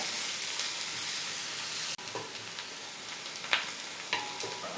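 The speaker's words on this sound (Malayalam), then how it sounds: "വലിയൊരു സവാള ഈ ഒരു സൈസിലൊന്ന് അരിഞ്ഞിട്ടുണ്ട്, കുറച്ച് കറിവേപ്പില. ഇതൊന്ന് വഴറ്റി കൊടുക്കാം." Sliced onion and curry leaves sauté in a pan, giving a steady, close frying hiss throughout with a few brief clinks of stirring and no talk.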